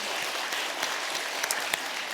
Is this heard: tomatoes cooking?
no